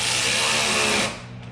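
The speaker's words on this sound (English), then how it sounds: "Get to drill some holes into my plastics." A power drill whirring at high speed into a plastic panel of an Outlander XMR 650 ATV for about a second, then spinning down and stopping, close and loud.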